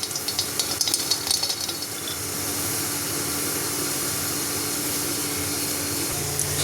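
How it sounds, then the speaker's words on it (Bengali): Peanuts frying in a pan for a cauliflower posto dish, a continuous steady hiss and sizzle that is a little crackly at first and smooths out as it goes on, with no voices. "এখানে এই জন্য একটু বাদাম ভেজে নিচ্ছি"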